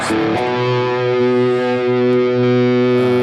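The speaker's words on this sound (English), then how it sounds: "Too much reverb and delay, of course." Sustained electric guitar notes ring out with heavy reverb and delay, a distorted EL34 amp-style tone, with long-held pitches blending and trailing into each other.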